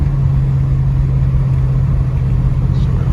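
A 1974 AMC Javelin's engine hums steadily at a low pitch while driving, a constant close rumble with no talking over it.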